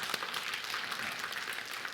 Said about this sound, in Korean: 박수 한번 치시고 할렐루야.